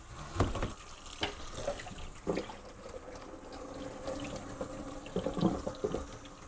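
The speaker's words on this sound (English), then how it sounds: "I'm gonna rinse it with cool water a couple of times and let it drain real well" Cool tap water runs steadily into a kitchen sink while salted coleslaw vegetables are rinsed, a continuous splashing flow with scattered louder splashes and no speech.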